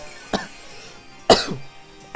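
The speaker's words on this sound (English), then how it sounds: "I don't know where the coughs came from," Two sharp coughs, one faint and one louder, from a person playing a Pokémon Ultra Sun/Ultra Moon VGC 2018 battle, separated by a quiet pause, with a third starting just at the end.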